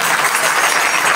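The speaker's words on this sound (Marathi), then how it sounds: "आदरणीय हरिभक्तीपराय आदेश महाराज हरिहर यांच्यासाठी जोरदार टाळ्या वाजवा." An audience at a kirtan during an akhand harinam saptah claps loudly in a dense, continuous burst of applause that fills the short moment.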